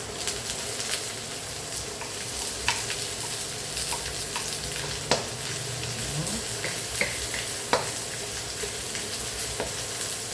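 Chopped onions sizzling in a hot frying pan while cooking tinolang manok, a steady crackling fry with occasional sharp clinks of a utensil stirring against the pan.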